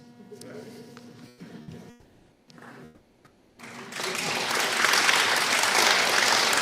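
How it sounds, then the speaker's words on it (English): Applause from an audience in a congressional hearing room breaks out after a few seconds of voices and murmuring, then rises into loud, sustained, dense clapping that fills the room to the end. "did you hear the applause in this room?"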